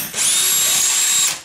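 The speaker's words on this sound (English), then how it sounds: "So set your drill so it's not on hammer," Power drill with hammer mode off boring into a tiled wall with a 10mm bit, one loud steady whine of just over a second that spins up and stops abruptly.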